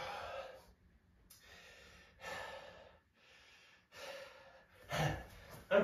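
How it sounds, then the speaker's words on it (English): Someone breathes heavily after a bodyweight hinge and brace workout, with several loud, breathy gasps and exhales spaced apart and short quiet gaps between them. "I'm breathing."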